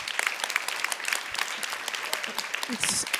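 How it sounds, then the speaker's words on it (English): Audience applause at a community panel event, a dense patter of many hands clapping at moderate volume, steady for a few seconds with a brief louder swell near the end. "give him a big round of applause"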